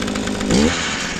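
A two-stroke engine fitted with a compression release runs briefly, a close, loud buzzing drone with a slight rise in pitch partway through.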